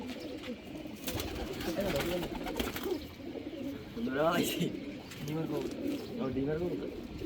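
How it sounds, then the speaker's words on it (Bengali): Pigeons coo repeatedly in soft rolling calls, close by at a pigeon farm, while people talk quietly in the background. "সব হইলো উড়ানো কবুতর"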